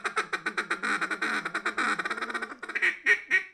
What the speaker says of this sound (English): He can blow a duck call.